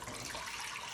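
A steady, hissing rush of water as three cups are poured into a mixing bowl for homemade bread dough, fairly quiet and continuous with no talking.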